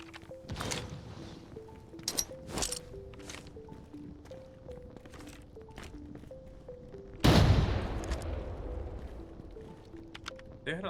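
Several sharp gunshots in the game Arena Breakout Infinite ring out irregularly, with one louder blast around the middle, over a steady background of tonal game music and ambient noise.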